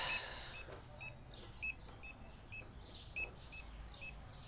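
Checkout scanner in the Supermarket Simulator video game beeps repeatedly, short bright chirps at a steady irregular pace over faint background hum.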